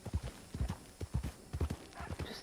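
Horse hooves clip-clop on the ground at a steady walking rhythm in Red Dead Redemption 2, the repeated soft thuds coming near and clear with no talk.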